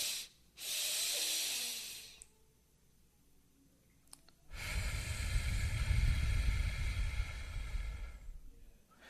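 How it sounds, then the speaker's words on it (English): Slow, deliberate breathing as a lesson: a long airy hiss of inhale, a pause, then a longer, fuller exhale pushed out through the mouth, close and alone with no talk. "I'm exhaling through my mouth for double the length of the inhale"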